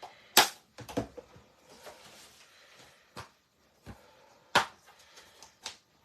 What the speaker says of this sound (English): we will then cut these out with the dies